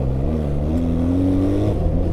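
A BMW R 12 G/S motorcycle with a 1200 engine revs hard. Its deep, steady engine note climbs and holds through the short stretch, loud and close, with no voices.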